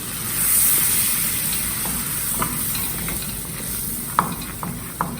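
Mac and cheese sauce stirred quickly in a pan, a soft continuous swishing with a gentle sizzle and a few sharp spoon taps against the pan near the end.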